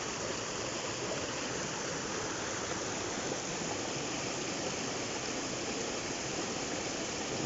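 A river stream in a video game forest flows in a steady, even rush of water, continuous and fairly soft, with no voices over it.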